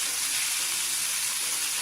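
Steak frying in a stir-fry pan for a Korean-style gochujang chilli beef dish, a dense, steady, close sizzle that stays loud and hissy throughout, no talking.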